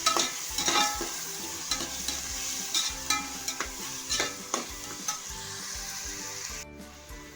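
Greens, onion and green chillies frying in oil with a steady close crackling sizzle, punctuated by repeated scraping stirs, the hiss cutting off sharply near the end.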